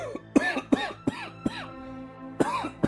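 A man coughs loudly and hoarsely in a bedroom scene, with about five harsh, rasping bursts, four in quick succession and one after a short pause, each close and forceful.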